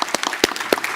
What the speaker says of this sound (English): let's give a round of applause to the panelists